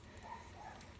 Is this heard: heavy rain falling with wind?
no